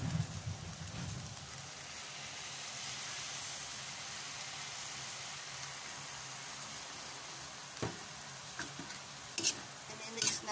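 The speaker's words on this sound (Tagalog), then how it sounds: "Lagyan natin ng konting toyo." Pancit bato noodles sizzle steadily in a hot pan as a splash of soy sauce goes in, a soft continuous frying hiss with a few light clinks of stirring near the end.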